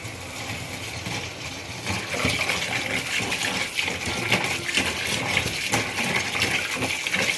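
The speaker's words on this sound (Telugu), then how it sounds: "ఇప్పుడు రన్నింగ్ వాటర్లో క్లీన్ చేసుకోవాలి." Cleaned, deveined prawns are rinsed under a running kitchen tap, a steady close gush of water that grows louder after the first two seconds, with small knocks and splashes and no talking.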